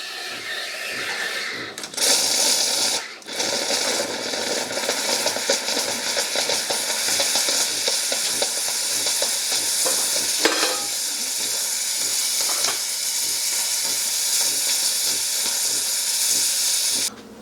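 A cappuccino machine pushing out frothy cream, a loud, steady steamy hiss and sputter that starts abruptly, runs almost continuously with brief gurgling breaks, then cuts off.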